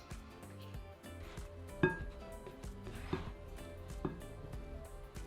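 Dry cake ingredients and a blended mixed spice are stirred in a bowl, with scraping and a few sharp clinks of utensil against the bowl, moderately quiet and irregular.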